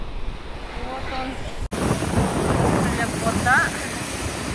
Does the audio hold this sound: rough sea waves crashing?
yes